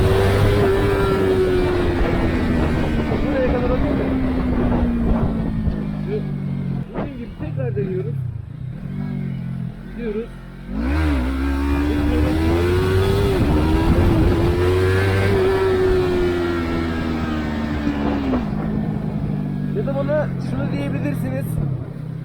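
A homemade tekteker motor, a small engine-powered single-axle cart, revs at high throttle with a loud, wavering whine that dips and climbs repeatedly as it rides along, while someone talks over it.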